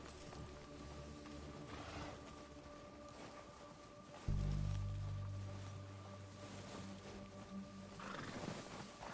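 A horse neighs loudly in the middle, with background Red Dead Redemption 2 game ambience and faint hoof movement around it.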